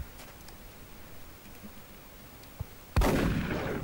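Gunfire from the video game XCOM Enemy Within: after quiet ambience with a few faint ticks, one loud, sharp blast bursts out near the end and leaves a rumbling tail.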